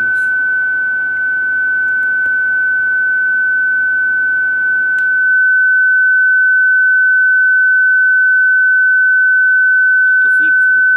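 A repaired JBL 4344 compression driver plays a test tone, a steady, pure, moderately loud single tone over faint background noise at first, then alone.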